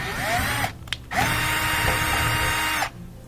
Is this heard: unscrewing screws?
yes